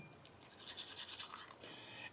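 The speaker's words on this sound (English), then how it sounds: "Finish that off with our toothbrush," Teeth brushed with a toothbrush that has toothpaste built into the bristles, a close, quiet scrubbing in quick bursts that pauses briefly and then resumes.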